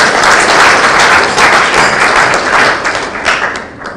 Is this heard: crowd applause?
yes